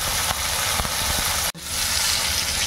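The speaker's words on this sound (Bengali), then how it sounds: "লাবড়ার সবজিগুলোকে আগে ভেজে নিচ্ছি।" Yardlong beans frying in oil in a pan for a village-style labra vegetable dish, a steady loud sizzle with bubbling crackle throughout, briefly cut once midway.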